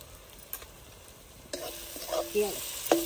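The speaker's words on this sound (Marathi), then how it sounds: "छानपैकी परतून घ्यायचं एकत्र।" Raw papaya pieces sautéed with turmeric and red chilli powder and garlic paste, with soft stirring scrapes that grow louder halfway through, a few sharp spoon knocks and a light sizzle, no voices.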